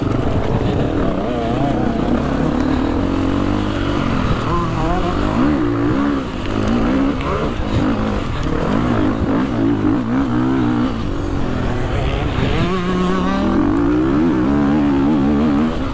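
Motocross motorcycle engines roar in a cross-country championship race in France, a loud continuous drone with rising and falling revs as the bikes accelerate, close by. A voice talks intermittently over the engine noise.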